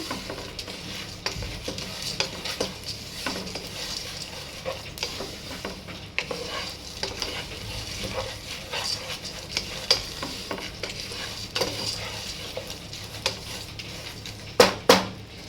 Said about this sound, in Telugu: ఇవి అనేది ఇంకా కొంచెం వేగిన తర్వాత వేరే దాంట్లో గిన్నెలోకి ట్రాన్స్ఫర్ చేసేసుకుందాం